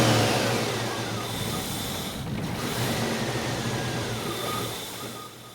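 Car engine with a fuel system problem running after starting, a steady mid-pitched drone that wavers unevenly as it struggles to hold an idle, close and continuous.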